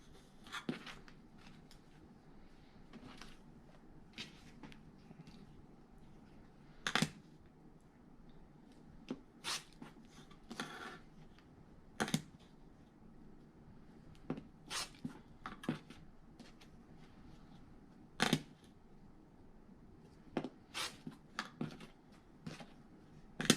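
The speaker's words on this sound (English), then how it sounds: "They are oversized, and so we'll trim them to the size they need to be." Oversized half square triangle quilt blocks are trimmed in a quiet room, with scattered soft sharp ticks and clicks of cutting tools and ruler at irregular intervals, faint and close.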